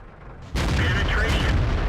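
A tank cannon fires in a tank battle game: one loud, sudden boom breaks a quieter backdrop and is followed by a heavy, rumbling tail that stays loud to the end.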